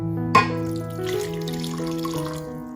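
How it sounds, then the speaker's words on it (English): Water pours into a mixing bowl with a short splash at the start, then a steady trickling stream that rings with a hollow tone, close and quiet. "Put a little bit of water in."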